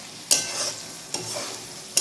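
Masala paste sautéed and stirred in a pan over a low flame, a soft steady sizzle broken by three sharp scraping stir strokes spaced under a second apart, close and fairly quiet.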